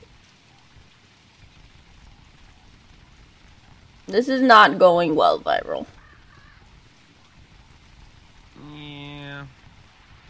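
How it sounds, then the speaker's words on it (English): Steady rain falls as a soft, continuous patter through the whole stretch, while a voice speaks briefly in the middle and a short tonal sound follows near the end. "I'm mostly just waiting for this friggin' rain to pass."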